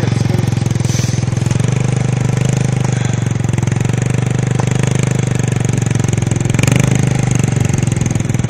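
Motorcycle engine running close by, a loud, steady, rough mechanical drone with a constant low pulse throughout and no pauses.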